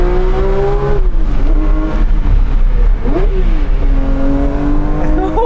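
A Porsche 911 S/T with a lightweight flywheel revs hard, its engine pitch climbing, dropping and snapping back up quickly in several loud, close sweeps that run steadily for a few seconds.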